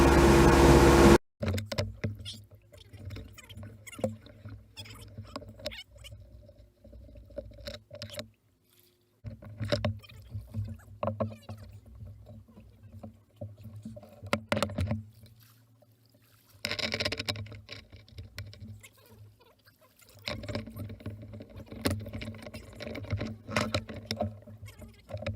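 A 34 ft Hartley timber boat motors along, its engine a throbbing, tonal drone that rises and falls in intensity, with rattles and knocks on board and a loud burst at the very start; no one speaks.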